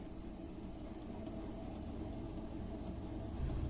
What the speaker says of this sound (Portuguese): esse barulho é o atrito dessas esferas na pista do rolamento